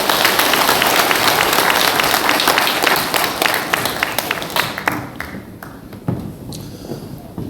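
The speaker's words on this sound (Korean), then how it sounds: "힘찬 박수 부탁드립니다." An audience in a church hall gives vigorous applause for a speaker at an education session, a dense roar of many hands clapping that gradually thins out and fades into scattered claps.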